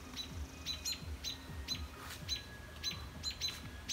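Parent birds chirp repeatedly near their fledglings on a home deck, a series of short, bright tweets and calls close by, in a steady rhythm over faint background noise.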